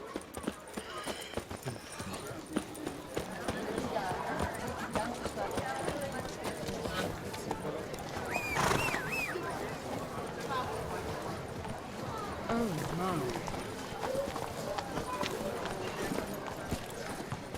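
Roach the horse galloping in The Witcher 3: Blood and Wine, a steady rapid clip-clop of hooves running beneath frequent talking voices, with a brief whinny-like sound partway through.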